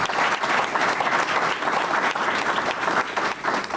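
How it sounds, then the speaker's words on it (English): An audience at a school board meeting breaks into sustained applause. Dense, even clapping from a roomful of people holds steady for several seconds, with no speech over it. "I think that's worthy of applause"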